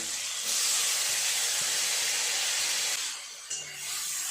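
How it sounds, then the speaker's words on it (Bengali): Chopped onion and tomato dropped into hot oil, a loud hissing sizzle that eases after a few seconds, with faint clatter underneath. "এই তেলের মধ্যে দিয়ে দেব পেঁয়াজ কুচি আর টমেটো"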